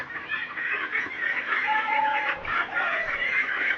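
Chickens cluck on a poultry farm that also keeps ducklings, pigs and dairy animals, a steady cluster of overlapping clucks and calls at close range with no talk.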